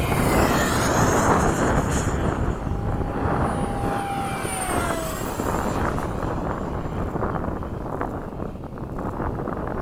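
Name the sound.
Freewing 70mm F-35 RC model jet flying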